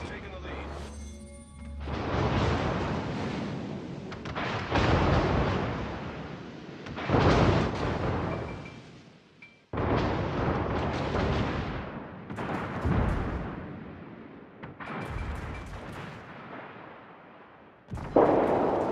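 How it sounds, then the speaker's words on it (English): Heavy naval guns on a warship in the World of Warships video game boom in a series of deep, loud salvos roughly every few seconds, each rolling off into a rumbling tail; a voice speaks between the blasts. "All stations, concentrate fire on the target."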